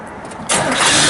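A 1970 Chevrolet Camaro Z28 V8 cranks briefly and then catches, bursting into a loud, steady idle close by.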